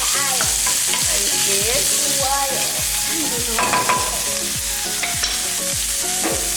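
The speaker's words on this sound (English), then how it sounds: "we're gonna stir it together" Fried rice with breakfast sausage and egg sizzles loudly in a hot pan while a utensil scrapes and stirs in quick repeated strokes; a voice speaks briefly over the frying.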